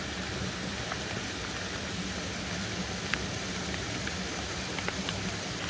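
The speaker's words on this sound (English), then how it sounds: "it never stopped raining today" Steady rain hisses evenly on a surface along a backpacking trail on the Monadnock Sunapee Greenway, a dense continuous patter with occasional sharper drips, and no voices.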